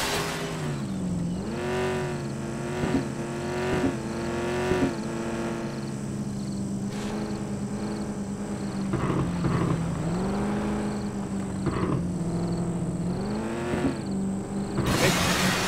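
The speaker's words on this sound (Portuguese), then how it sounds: "Parece o carro de Volta pro Futuro" A car engine driving in the video game American Fugitive, loud and continuous, its pitch rising and falling repeatedly as the engine revs through gear changes and speed shifts.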